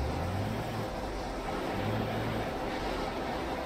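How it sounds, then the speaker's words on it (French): A bus air conditioning fan runs at full blast inside a Temsa Maraton coach in Euro Truck Simulator 2, a steady, dense whooshing drone with a low hum beneath, constant throughout. "On dirait qu'il y a la clim pleine balle là qui tourne"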